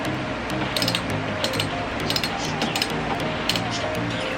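A wrench tightens bolts on a crash guard of a Yamaha NMAX scooter, giving rapid, steady ratchet clicking with light metallic clinks close by, and no voice.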